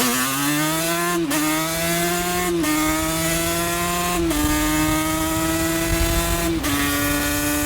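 A Yamaha Banshee two-stroke ATV engine runs loud and close at a high, buzzing pitch. It is revved repeatedly, with short dips in pitch between the sustained pulls.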